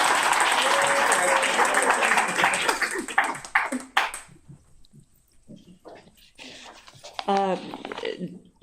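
A reading audience gives a warm round of applause for someone, loud dense clapping that fades out after about four seconds and gives way to quiet room noise and then a speaking voice.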